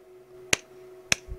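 Two sharp, bright hand claps played back from a recording, evenly spaced about half a second apart, each short and crisp over a faint steady hum.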